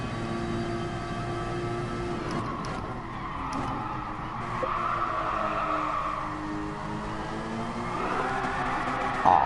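A race car in Gran Turismo Sport runs a license test, its engine droning steadily while the tires squeal and slide from oversteer, a rising screech building mid-lap and holding over the continuous motor tone.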